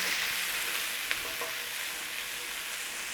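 Garlic frying in a hot pan gives a steady, moderately loud sizzle throughout, with one brief clink partway through and no voices.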